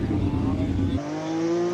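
A Datsun 240 classic car running at the Speed Classic Cape Town event, a close, droning engine note that drops and settles into a steadier, lower tone partway through.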